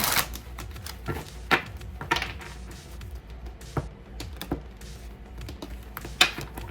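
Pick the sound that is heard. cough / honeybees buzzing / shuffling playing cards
shuffling playing cards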